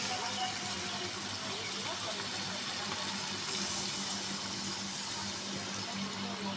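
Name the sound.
water poured into pan of duck curry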